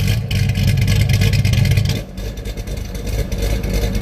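Car engine revving loudly through a factory valved muffler with the valves open, a deep throaty roar that surges, dips briefly midway, then climbs again, close and alone with no talking.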